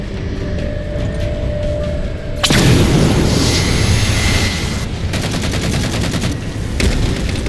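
Heavy explosions and rapid gunfire pound the Mammoth vehicle in the Halo 4 video game, a loud, dense barrage with a big boom, then continuous rattling fire and blasts.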